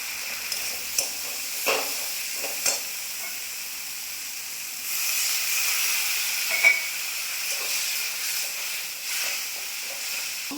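Spices frying in oil for a Bengali matar dal and soybean dhoka curry, a steady steamy hiss with a few stirring clinks, swelling louder midway as water is poured into the hot pan.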